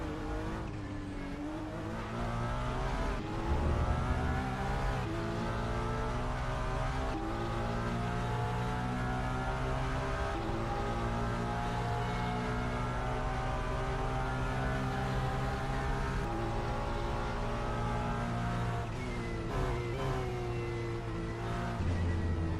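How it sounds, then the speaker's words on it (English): A Ferrari 296 GT3 racing engine in a racing video game league round at a Japanese circuit, a steady, loud engine drone with shifting pitch as it revs through gears, heard onboard with no talk. "That is the 296 GT3 engine that we just heard."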